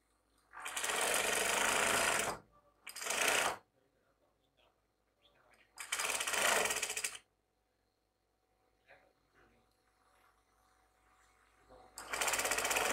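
A sewing machine stitches the seam of a baju kebarung in bursts of rapid, buzzing running, a few seconds each, separated by quiet pauses, close and clear.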